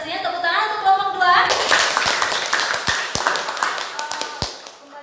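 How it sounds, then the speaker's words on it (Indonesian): Classmates clap for a student group after their presentation in a classroom, a burst of scattered, uneven hand claps with a few sharp individual taps standing out, at moderate loudness over room noise. "Tepuk tangan untuk kelompok 2."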